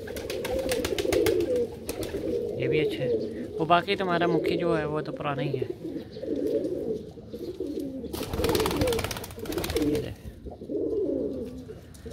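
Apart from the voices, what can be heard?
pigeons cooing in a loft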